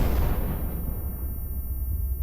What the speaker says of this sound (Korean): 가스 폭발이 터졌는데